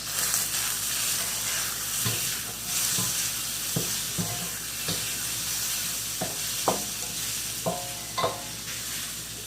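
Shrimp and chicken sizzle in a hot pan during stir-frying, with a steady loud hiss broken by repeated scraping and clanking strokes of the utensil as the food is tossed.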